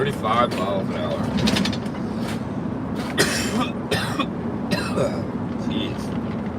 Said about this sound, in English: Now what I've noticed about my coughing, guys, I only cough in the morning, really.